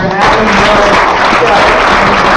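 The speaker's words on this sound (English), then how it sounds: "big round of applause" A conference audience gives a round of applause after a presentation, steady and dense throughout the short stretch, with voices mixed faintly into the clapping.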